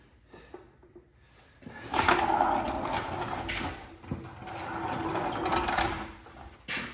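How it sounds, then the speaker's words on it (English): A jack presses up under the strut arm of a Kawasaki Mule 4010 4x4 SE during a front 2-inch lift kit install, heard as close, intermittent mechanical clicks, creaks and scraping with short pauses between bursts. "I have found it helpful to use a jack at the bottom of the strut arm"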